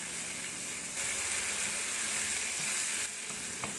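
Chili powder and turmeric frying in a pan while being stirred, a steady close sizzle with a soft hiss and occasional scrape of the spoon, no voices.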